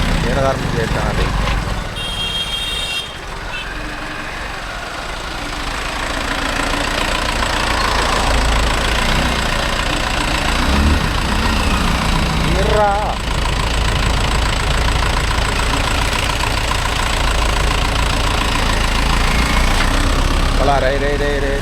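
Mahindra Yuvo Tech Plus 585 DI 4WD tractor pulling a 9-point cultivator, its diesel engine rumbling loud and steady throughout, with voices talking over it.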